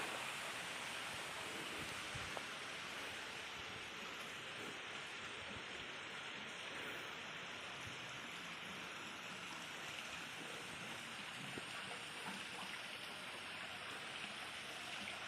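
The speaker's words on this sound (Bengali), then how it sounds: "ঝর্নার জল পড়ছে নিচে" Waterfall water falling into a village stream, a constant soft broadband rush and splash, even and unbroken throughout, faint and somewhat distant.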